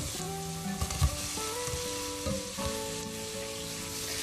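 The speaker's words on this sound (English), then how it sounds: "And in goes my sliced onion." Sliced onion sautéing in hot oil in a pan for a vegan lemon, kale and sausage pasta, a steady close sizzle with occasional stirring scrapes and soft clinks.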